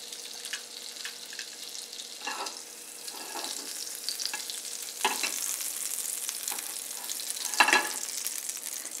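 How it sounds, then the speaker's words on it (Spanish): A piece of butter sizzles in a frying pan as French toast is made, a steady crackle punctuated by several scraping stirs and clinks, close and moderately loud with no voices. "Le voy a agregar un trozo de mantequilla a la sartén"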